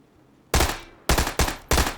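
Gunfire aimed at fuel pumps at a gas station in PUBG, four loud, close single shots, each with a short decaying echo, spaced unevenly over about a second and a half.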